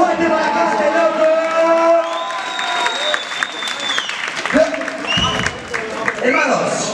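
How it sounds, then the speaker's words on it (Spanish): A crowd at a freestyle rap battle claps, whoops and cheers for a competitor named Hunter, with loud shouts and voices rising over the applause and sharp bursts of noise in the latter half. "¡Un aplauso fuerte para Hunter, loco!"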